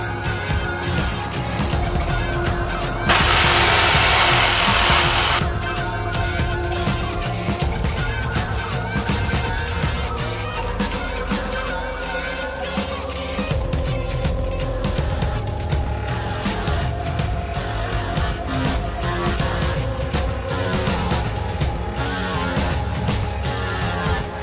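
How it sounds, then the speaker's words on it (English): A jigsaw cuts through the top of a hammer handle with a steady, rapid rattling buzz that runs close and loud with no pauses, and no one talks. "We are going to cut the top part of the handle off with the jigsaw"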